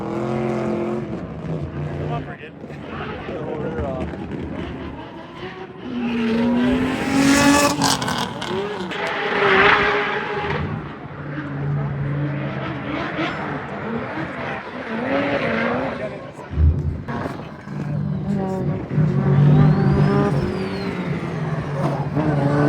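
Race car engine on nitrous with anti-lag, revving and accelerating hard with rising and falling engine tones, pops and tire noise, heard under ongoing talk over the course of the run.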